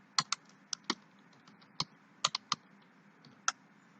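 Fingers typing C# code on a computer keyboard, a sparse, irregular run of sharp key clicks, some in quick pairs, close up against quiet background hiss.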